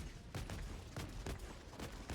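The Scorcher plasma gun fires in full auto in Helldivers 2, a rapid run of punchy shots roughly every quarter second, close and loud throughout the short burst.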